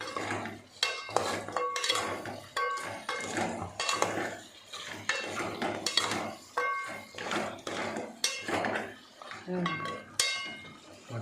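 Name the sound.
stirring mutton fry in a pan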